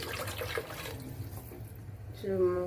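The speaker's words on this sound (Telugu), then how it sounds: "ఇంకొక గ్లాస్ వాటర్ పోసి దాన్ని ఉడకడానికి" Water is poured from a glass into a pot for bone soup, a broad splashing rush that fades, then a voice speaks at the end.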